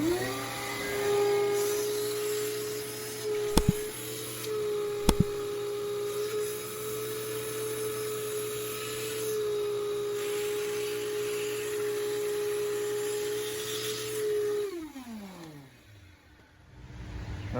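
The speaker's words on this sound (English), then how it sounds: "then we'll vacuum out one more time." A vacuum cleaner runs with a steady whining drone, broken by two sharp clicks, then winds down as the motor is switched off, while vacuuming out a stripped glow plug hole during repair.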